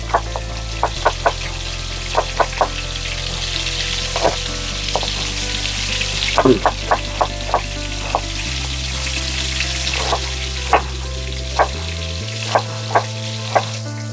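Schnitzel cutlets fry in a pan with a steady sizzle throughout, broken by scattered crackles and pops, while brief clinks and tap-like water sounds come and go in the background.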